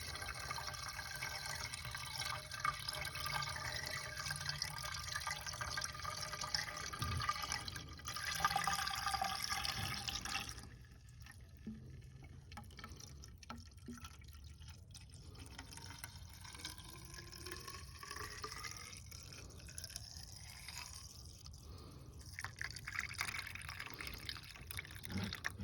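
Washer fluid pours steadily into a car's nearly empty windshield reservoir, a soft continuous glugging trickle that shifts in tone partway through as the level rises, faint and close with no voices.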